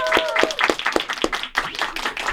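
Studio audience claps for a singer on a talk show, with loud, distinct rhythmic hand claps near the microphone that turn into looser applause.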